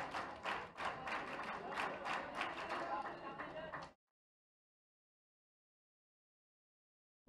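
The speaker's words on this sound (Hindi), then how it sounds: "बहुत जोरदार तालियां श्री महेंद्र कुमार पुत्र श्री इंद्रराज" Applause rings out at a World Disability Day award ceremony as Mahendra Kumar is honoured: a dense, steady burst of clapping for about four seconds that cuts off abruptly into silence.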